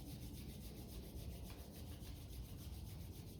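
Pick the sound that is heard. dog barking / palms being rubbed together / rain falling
palms being rubbed together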